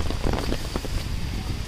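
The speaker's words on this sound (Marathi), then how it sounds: "आता पाऊस खूप पडतो, अक्षरशः खूप पाऊस आहे." Heavy monsoon rain in Mahabaleshwar pours down steadily at close range, giving a dense wash of patter with no voices.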